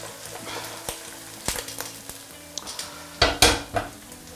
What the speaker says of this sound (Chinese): 我给它炒一下，炒到这个泡椒出香